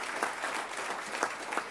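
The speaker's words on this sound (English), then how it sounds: "let's give all these students another round of applause" Dense applause from an audience at a Palm Beach County school board meeting, honoring scholarship students: steady, even clapping with scattered sharper claps, no talking over it.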